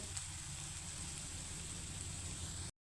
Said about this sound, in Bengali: একইভাবে আমি এক এপিট ওপিট করে সুন্দর লাল লাল করে সুন্দর করে টিকাগুলো ভেজে নেব